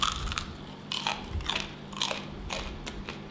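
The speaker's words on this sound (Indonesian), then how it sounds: "Tempenya jadi garing kriuk gara-gara ada si mie-nya ini" Crisp, loud bites and crunching chews into fried tempeh with a crunchy noodle coating, sprinkled with chili powder, in a rhythmic series of about six crunches close to the mic.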